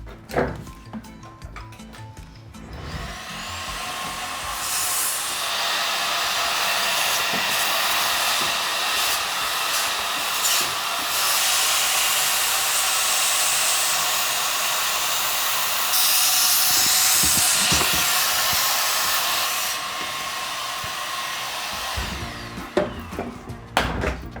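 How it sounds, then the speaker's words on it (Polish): A loud, steady vacuum cleaner whir runs continuously for about twenty seconds while cleaning a clothes dryer door, with brief clattering handling noises at the start and end. "z tym poradzę sobie za pomocą odkurzacza"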